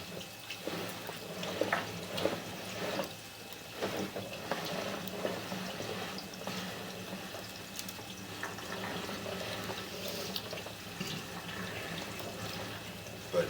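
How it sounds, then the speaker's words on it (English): Water runs steadily through a residential drain line during a sewer inspection, a continuous broadband rush and trickle with gurgling fluctuations, fairly close and without talk. "So just want to run some water and make sure that everything's flowing."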